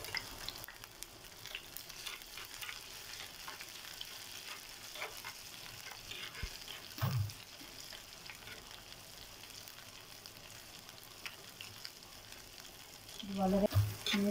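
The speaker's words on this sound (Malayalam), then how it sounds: "ഇത് നന്നായി ചൂടായി വന്നതിന് ശേഷം അല്പം ഇഞ്ചിയും വെളുത്തുള്ളിയും ചതച്ചത്" Crushed ginger and garlic sizzle in hot oil in a clay pot, a soft steady frying hiss with occasional stirring scrapes and a louder clatter near the end.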